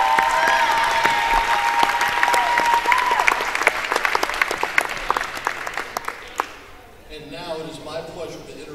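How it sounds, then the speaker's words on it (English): A gym crowd claps loudly and steadily at a high school volleyball senior night for Olathe Northwest, with scattered cheers and a voice underneath. The clapping thins and fades out near the end. "Let's give these 3 ladies a round of applause."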